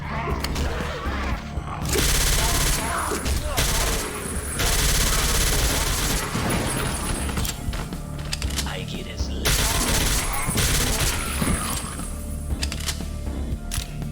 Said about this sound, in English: when I just dump all that pistol ammo through this thing